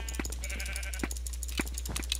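Sheep bleating in the multiplayer video game Sheep Quest, several short bleats popping up over a steady low game hum and busy game sounds.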